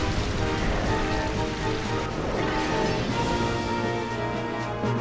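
Rain from the Rain Dance move in the Pokémon Colosseum video game: a steady, even hiss of pouring rain with a constant patter, moderately loud and unbroken throughout, with no voices over it.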